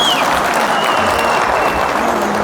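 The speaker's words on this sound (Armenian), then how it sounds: "հարցի կողմը թող ծափեր տա։" Guests from the bride's side at a wedding gathering clap loudly and continuously, a thick, close burst of applause with faint voices in the background.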